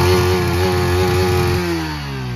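A Yamaha MT-15 motorcycle engine held at high revs, a loud, close, steady harmonic drone that drops in pitch near the end as the throttle eases.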